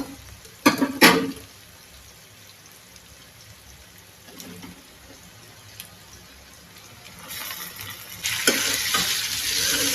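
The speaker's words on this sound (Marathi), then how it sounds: "आपला कांदा मस्तपैकी फ्राय झालेला आहे. आता ह्याच्यामध्ये आपण टोमॅटो टाकू." Onions frying in a pan as tomatoes go in for mutton biryani, with loud clatter and scraping of stirring at the start, a quieter stretch, then a louder, brighter sizzle near the end.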